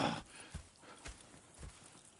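Horse hooves clip-clop in Red Dead Redemption 2, a few evenly spaced thuds about half a second apart over a soft outdoor ambience, fairly quiet and with no talk.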